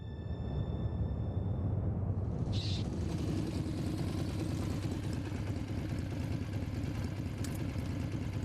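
The motorcycle engine in the video game Resident Evil 2 (1998) runs with a steady, rough, mid-pitched drone that swells after a brief start and holds at a constant loud level with a clattering texture.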